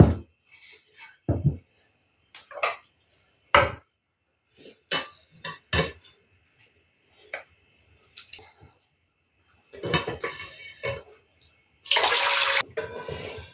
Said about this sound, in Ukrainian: І так з усіх баночок зараз зіллю воду.